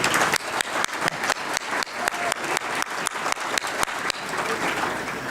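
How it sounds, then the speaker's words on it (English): Applause from an audience at an alumni weekend half-century luncheon, a steady patter of claps with a few sharp individual claps standing out, fairly close and sustained over a few seconds. "Could we give them another round of applause?"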